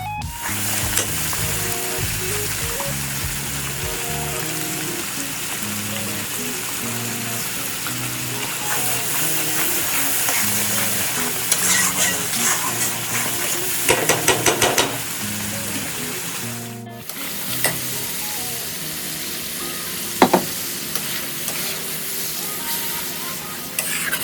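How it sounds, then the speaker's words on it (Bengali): Beef is stir-fried in hot oil in a pan for a Bengali beef bhuna, loud continuous sizzling with scraping and stirring clatter of a spatula and occasional sharp spits. "খুব ভালোভাবে আমি কষিয়ে নেবো আমি মাংসগুলো দিয়ে এই যে আমি এটাকে খুব ভালো করে কষিয়ে নিয়েছি"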